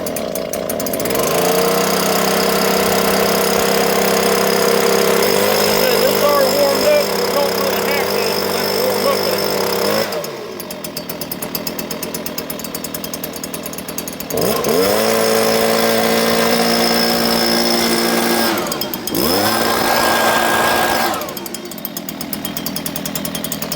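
Gas leaf blower engine running and warming up, a loud buzzing two-stroke drone that rises and falls as the throttle is opened and released several times, heard close.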